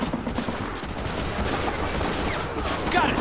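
Dense gunfire from the World War II strategy game Men of War: Assault Squad, loud overlapping rifle and machine-gun shots crackling continuously over a heavy battle din.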